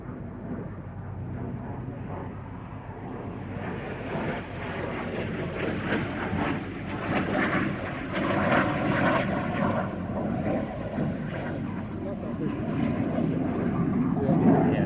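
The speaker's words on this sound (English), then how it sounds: "this example, a CL-13B Sabre Mark 6 built by Canadair, has all of those refinements and more" A Canadair CL-13B Sabre Mark 6 jet flying at the Shuttleworth Summer Air Show, a steady broad engine roar that swells gradually, with announcer-style talk over it.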